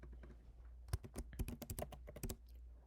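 Keys clatter on a computer keyboard in quick irregular clusters of taps, close and clear over a low steady hum, with no talk.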